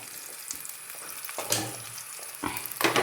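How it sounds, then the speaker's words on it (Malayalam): Bursts of crackling and sizzling from salted plantain frying in hot oil, with a few louder spurts of spattering toward the end, close by. "നമുക്ക് ഒന്നിച്ച് വേണേലും വാഴയ്ക്ക വറക്കാം"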